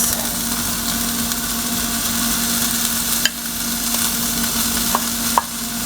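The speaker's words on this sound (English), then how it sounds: "now I'm gonna add all of our spinach to the pepper mix" Spinach and peppers fry in a pan with a steady, dense sizzle throughout, broken by a few light clicks of a utensil against the pan.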